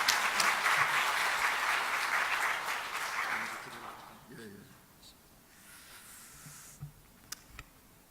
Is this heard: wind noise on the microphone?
no